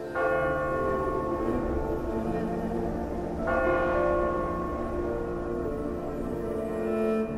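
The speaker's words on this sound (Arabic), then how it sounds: "استمعت إلى صوت جرس الكنيسة" A church bell rings steadily, its rich harmonic tone sustained and ringing out, with a fresh strike partway through that renews the sound; no voices.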